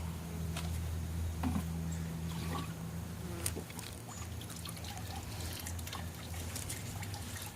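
Homemade 1:1 sugar syrup pours from a bucket into beehive feeders outdoors, a soft continuous trickle and splash with faint drips, quiet and without talking.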